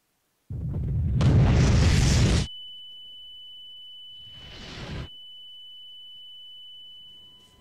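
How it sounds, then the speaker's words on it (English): A loud, close video game explosion in Garry's Mod bursts out with a deep rumbling roar, cuts off sharply, then a second softer blast follows as a steady high electronic tone lingers. "As you can see, that's a pretty good size explosion."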